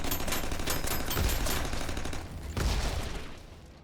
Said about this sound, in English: I'm gonna shoot you.